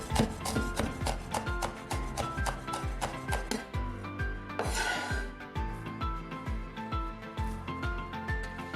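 Mitmita chili peppers are crushed and chopped by hand, with steady rhythmic knocks and rasping strikes repeating about twice a second, close and clear throughout.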